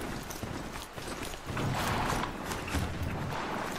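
Rhythmic clip-clop of horse hooves in the video game Horizon Zero Dawn, steady and mid-distance, picking up in intensity partway through over a constant ambient bed.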